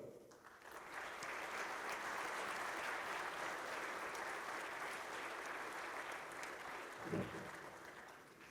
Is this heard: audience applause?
yes